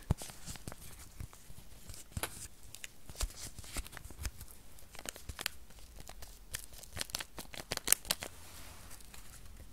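A paper tea sachet crinkles and rustles in quick, irregular bursts of soft crackling and tapping, close and fairly quiet, with no talking.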